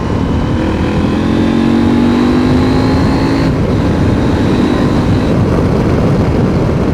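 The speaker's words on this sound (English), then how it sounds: "So little fourth gear pull." A KTM 890 SMT motorcycle carrying two riders accelerates in fourth gear. The engine note rises in a loud, continuous pull that is drowned in heavy wind rush, and then it levels off.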